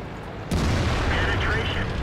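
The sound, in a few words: tank cannon shot in World of Tanks video game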